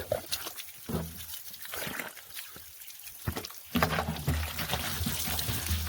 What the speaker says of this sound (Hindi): तो दोस्तों अब भरते हैं पानी